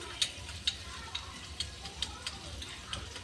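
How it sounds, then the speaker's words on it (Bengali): Masala being sautéed in a pan for a Bengali egg do-pyaza, with a low steady sizzle under regular stirring scrapes about every half second, fairly quiet and close with no talk. "আমি ভালো করে একটু কষিয়ে নেব মশলাটাকে"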